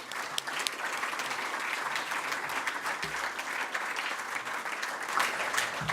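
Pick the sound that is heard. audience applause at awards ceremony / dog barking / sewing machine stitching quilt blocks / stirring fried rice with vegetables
audience applause at awards ceremony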